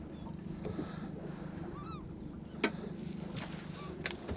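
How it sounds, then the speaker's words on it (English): A 50 hp engine runs on a Warrior 165 fishing boat off Mudeford and Christchurch in Dorset. It gives a low, steady hum, with faint bird calls and one sharp knock over it. "Turn that engine off."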